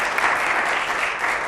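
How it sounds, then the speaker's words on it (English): A crowd applauds at a NASDAQ closing bell event during the 2013 Israel Dealmakers Summit, with loud, sustained clapping that holds evenly throughout and a few faint cheers mixed in. "I think that all deserves a round of applause."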